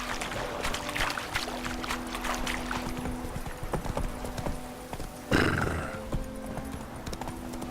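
Hooves of the horse Roach clip-clop at a trot along a path in The Witcher 3, a steady rhythmic patter under ambient game sound, with a short whinny or splash-like burst partway through.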